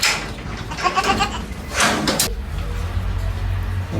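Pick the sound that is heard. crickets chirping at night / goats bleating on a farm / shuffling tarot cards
goats bleating on a farm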